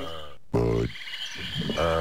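Frogs croaking in the style of the Budweiser beer commercial, loud, close, voiced croaks in a few distinct calls separated by short gaps.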